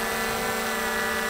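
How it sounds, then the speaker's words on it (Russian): A drone's propellers whir loudly and steadily at an outdoor campsite, a close, sustained buzzing drone with tonal hum as it lifts off and hovers, with no voices. "Ребята запускают дрон. Ну, в принципе, можешь попробовать взлететь."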